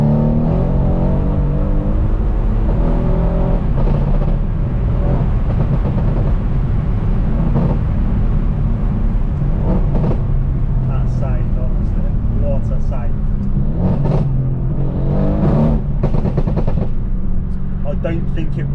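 A tuned 630 bhp Mercedes C63 AMG roars loudly and continuously for nearly twenty seconds, its engine note rising and falling with revs and broken by sharp crackling pops from the exhaust.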